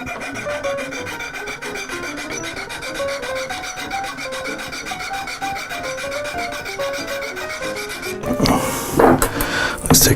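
A metal file rasps back and forth across wire for an elephant sculpture armature, a continuous rhythmic scraping close up, ending with a few louder clunks and handling noises.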